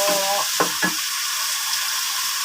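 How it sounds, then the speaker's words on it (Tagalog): Pancit canton noodles sizzle loudly in a hot pan as soy sauce is poured in. A steady hiss runs throughout, with a few sharp bursts near the start. "Ayan guys, lagyan na natin ng toyo."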